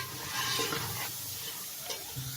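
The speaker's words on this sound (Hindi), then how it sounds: "इसे अच्छी तरीके से फ्राई करेंगे ताकि गरम मसाले की स्मेल चिकन के अंदर रच बस जाए।" Chicken with garam masala fries in a pot while being stirred, giving a soft, steady sizzle with a few faint scraping sounds, fairly quiet and without talk.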